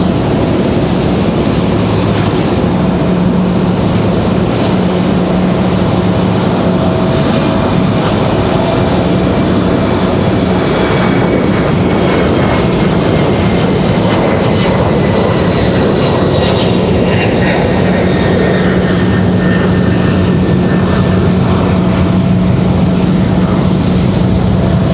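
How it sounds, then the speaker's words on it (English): Rolls-Royce Trent engines on an American Airlines Boeing 777 at Raleigh-Durham airport give a loud, steady jet roar with a rising whine that holds through the whole stretch, with no talking. "I don't know if you guys can hear those Trents from the American 777 or not,"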